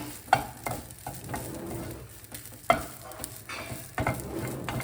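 Egg rice frying in a pan, a steady sizzle broken by several scraping knocks of a spoon stirring, close and moderately loud, with no speech.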